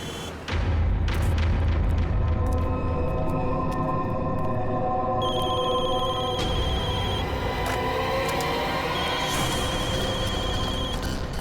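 Telephones ring repeatedly over a loud, rumbling dramatic score, the trilling rings overlapping and recurring for several seconds as many calls come in at once, with no talk.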